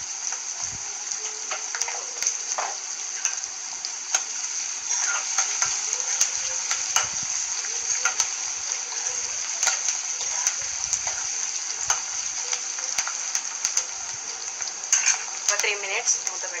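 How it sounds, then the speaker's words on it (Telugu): Cucumber pieces fry with salt in a pan, giving a steady, even sizzle and crackle that runs unbroken from start to end, with a few light clicks and stirring sounds on top. "కొంచెం సాల్ట్ వేస్తే త్వరగా వేగుతాయి."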